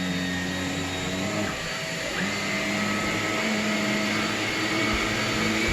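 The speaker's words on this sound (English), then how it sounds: "Trying to vacuum." A vacuum cleaner runs steadily indoors with a loud whining motor drone. Its pitch dips briefly early on, then holds a constant tone throughout.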